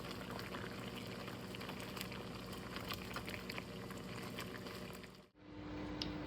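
Cranberries bubble in a pot for juice with their skins popping, a steady close simmering hiss and gurgle that cuts off near the end.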